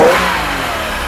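A Chaparral boat's motor running on its own, a loud, close mechanical drone that settles from a brief initial surge into a steady, even rumble.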